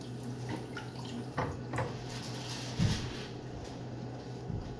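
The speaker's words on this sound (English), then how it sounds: "I wanna add some water to make the paper towel" Water trickles and splashes as it is poured onto a paper towel, with a low steady hum underneath and a few brief louder splashes and drips close by.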